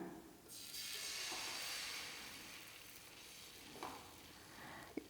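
Adai rice-lentil batter cooking on a hot oiled tawa, a soft hissing sizzle that swells early then settles, with a couple of faint utensil taps, quiet and close, no speech.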